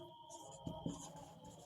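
Pen or pencil writing numbers by hand on paper, a soft continuous scratching with two brief firmer strokes, quiet and close with no talking.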